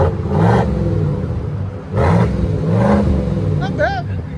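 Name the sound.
Chevy/GMC 5.3L V8 revving with Borla Touring exhaust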